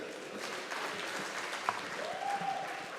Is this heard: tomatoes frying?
no